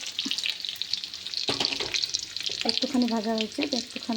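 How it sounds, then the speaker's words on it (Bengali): Garlic frying in a pan for a fenugreek and potato curry, a steady close sizzle with occasional stirring scrapes, and a voice speaking briefly near the end. "রসুন একটুখানি ফ্রাই হয়েছে, একটুখানি মানে ভাজা হয়েছে"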